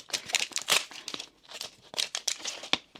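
Plastic packaging of a Mini Brands toy capsule being torn and crinkled open, giving a close, busy run of crackling bursts across the whole stretch with no talk.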